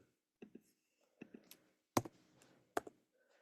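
Sparse keystrokes on a computer keyboard, a handful of separate soft clicks and taps spaced irregularly, close and quiet with near silence between.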